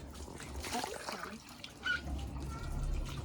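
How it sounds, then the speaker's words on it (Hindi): Water splashing and trickling over a German Shepherd or Husky being bathed with warm water on a sunny balcony, in uneven bursts with someone talking over it. "तेरे शरीर में पानी डालती हूँ"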